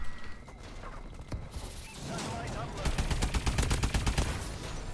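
Rapid automatic gunfire from an infinite-ammo weapon in Call of Duty: Advanced Warfare, a dense close burst of shots in quick succession following scattered earlier reports and game noise.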